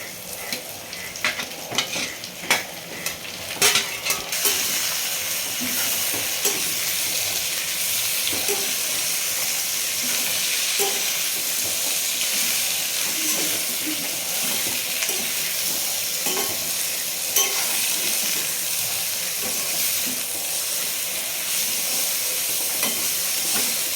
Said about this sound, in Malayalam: ഒരുവിധം വഴന്ന് കഴിയുമ്പോഴത്തേക്ക് നമ്മൾ സവോള ചേർക്കണം അപ്പോൾ അതിലേക്ക് സവോള ചേർക്കുവാണ്